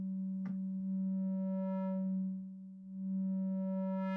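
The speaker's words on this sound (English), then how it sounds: "This is originally a square, but then it turns into a sine wave." A synthesized tone, originally a square wave, is filtered down toward a pure sine, holding a steady electronic hum with a click near the start and its bright upper harmonics sweeping away and back.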